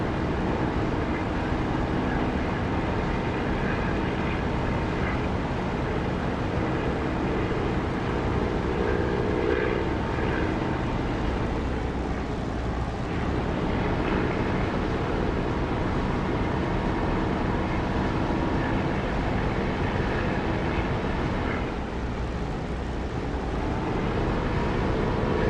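An aircraft engine drones steadily in the DCS flight simulator with the canopy open as the plane flies low toward an airfield, a loud continuous roar that holds level throughout with only slight swells.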